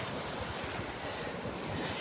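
Ocean waves wash continuously onto a beach near an inlet, a steady broadband rush with wind noise buffeting the microphone and no voices.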